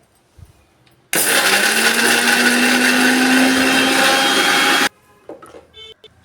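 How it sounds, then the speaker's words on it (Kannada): A mixer grinder coarsely grinds a sago mixture with cumin and salt, a loud steady whirring roar running for about four seconds with a faint rising whine, then cutting off abruptly into quiet handling noises. "ಒಂದಿಷ್ಟು ಜೀರಿಗೆ ಹಾಕೋರಿ ಹಾಕೊಂಡು ಇದನ್ನು ತರಿ ತರಿಯಾಗಿ ರುಬ್ಕೊಂಡು ಬರ್ರಿ"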